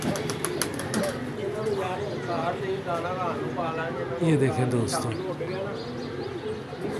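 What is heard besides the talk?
pigeons cooing and flapping on a rooftop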